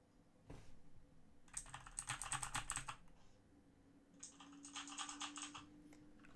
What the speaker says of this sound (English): Dabbing my keyboard.